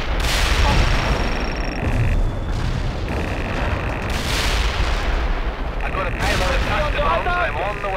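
Incoming artillery fire rumbles through a World in Conflict battle, dense heavy booms and blasts rolling continuously under shouted radio chatter and voices.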